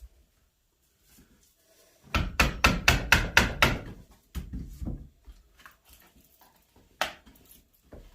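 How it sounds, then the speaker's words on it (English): Close, sharp hammer blows on a stout piece in a workshop: a rapid burst of about seven strikes, then scattered slower knocks and one last loud hit against quiet. "I was hammering on the tail and actually cracked some of this stuff"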